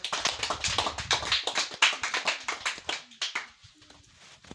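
A church congregation claps in rapid, rhythmic unison, the dense claps close and steady before thinning and fading out near the end.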